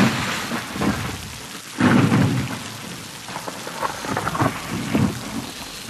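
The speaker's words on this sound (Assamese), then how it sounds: "বহুত জোৰে বৰষুণ দি আছিল" Heavy rain pours steadily as a drama sound effect, with a loud thunder crack near the two-second mark and lower rumbles rolling under the downpour. No one speaks.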